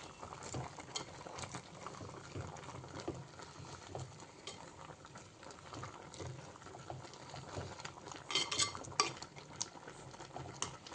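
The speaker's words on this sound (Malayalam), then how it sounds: "ഇളക്കി" Jackfruit being stirred in a cooking pot with rock salt, a faint, continuous scraping and clinking of a utensil against the pot with soft bubbling beneath, busier toward the end, with no voices.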